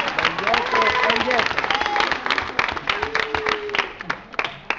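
Audience applause at a Grest Family 2010 summer youth event, sustained dense clapping from a crowd throughout, with an announcer's voice and some cheering over it.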